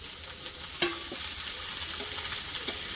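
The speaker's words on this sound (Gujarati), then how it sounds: "લસણ સોટે થાય ને એની સુગંધ બહુ ગમે મને." Garlic and ginger sautéing in a pan for Chinese food, a steady bright sizzle with a few clinks and scrapes of stirring, fairly close and without talk.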